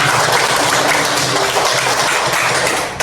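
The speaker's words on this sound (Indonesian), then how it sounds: "Sampai jumpa, tepuk tangan." A classroom of students claps together at the end of a lesson, a dense, loud burst of applause filling the room throughout, with a faint tone and background murmur beneath.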